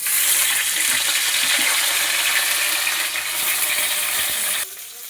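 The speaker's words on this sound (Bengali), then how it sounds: "তেলটা গরম হয়ে গেছে এবার একটা একটা করে মাছ ছেড়ে দেবো" Pieces of rohu fish go one by one into hot oil in a kadai, giving a steady, hissing sizzle with small crackles throughout, close and fairly loud, with no voices.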